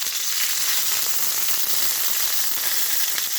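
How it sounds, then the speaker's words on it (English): A steak sears in a hot pan, giving a steady, dense sizzle that holds at an even loudness throughout, with no voices. "We want to get a really good sear on both sides so we don't lose our cheese."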